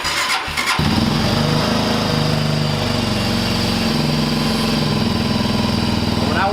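A Genuine G400C motorcycle, fresh from an oil change, cranks briefly, catches and settles into a loud, steady, close idle with an even rapid thrum.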